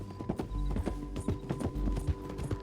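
Horse hooves clip-clop steadily in Red Dead Redemption, a close, even trotting rhythm with a faint whinny-like tone and low rumble underneath, no talking.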